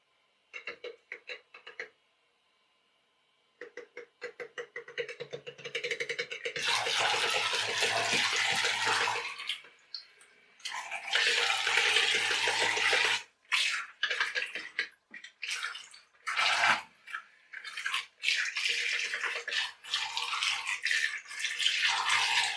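Small propellers churn and splash water in loud, uneven bursts, starting and stopping repeatedly with gurgling, spraying noise up close.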